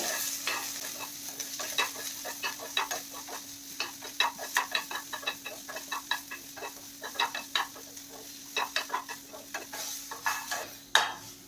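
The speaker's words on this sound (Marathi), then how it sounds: "थोडासा एक कांदा मी असे स्लाइस करून घेतलेले आहेत आणि 7 ते 8 लसूण पाकळ्या आपल्याला कांदा इथे छान सोनेरी रंग येईपर्यंत परतून घ्यायचा आहे।" Sliced onion and garlic sautéing in a pan, with a quiet sizzle and a low steady hum. Quick spoon scrapes against the pan come in close clusters.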